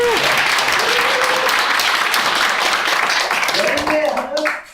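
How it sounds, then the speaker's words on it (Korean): Dense, steady audience applause fills a church hall, loud and continuous for several seconds, with a voice speaking over it before the clapping tapers off at the end. "다시 뜨겁게 박수를 보내드리겠습니다."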